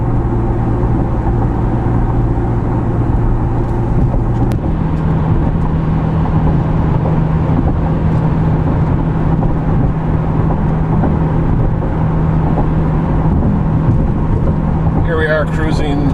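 A Camaro V6 fitted with an MRT axle-back exhaust cruises at low RPM, giving a steady, smooth low drone with a faint hum and road noise throughout, with no one talking.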